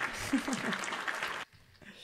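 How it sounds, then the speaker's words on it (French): Studio audience applause on a French business talk show, dense clapping with voices mixed in that cuts off abruptly, leaving quieter room sound and faint speech afterward. "ça mérite des applaudissements"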